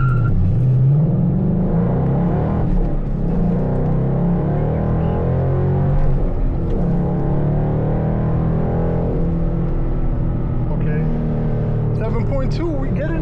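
A 12-year-old Ford Mustang GT accelerating hard on a 0-60 run with traction control on: a loud, sustained engine roar that climbs in pitch and holds close throughout, with occasional voices underneath.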